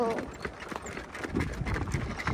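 A horse pulling a carriage clip-clops with a quick, uneven beat of hoof strikes nearby, with people talking over the sound.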